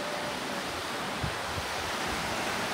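The Sikri Khola river rushes beneath a footbridge on a mountain trail, a constant broad roar of flowing water with soft low thumps, loud and steady with no one talking.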